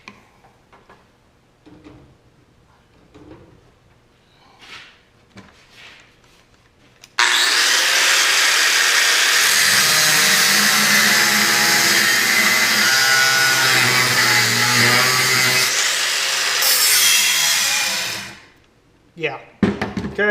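A large corded angle grinder cuts through material in a long continuous whine of about ten seconds, loud and close with a grinding rasp, then spins down; brief talk comes before and after the cut.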